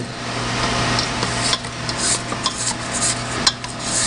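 A utensil scraping the sides of a mixing bowl of creamed butter and sugar, soft repeated rasping strokes with a few sharper clinks, close and fairly quiet over a steady background hum.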